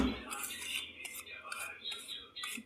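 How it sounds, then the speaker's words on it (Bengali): Sugar being stirred into custard cake batter in a bowl: a close series of about six rhythmic scraping strokes with a utensil, with no talking. "চিনিটা আমার দিয়ে দিচ্ছি, এবার মিক্স করতে শুরু করে দিচ্ছি।"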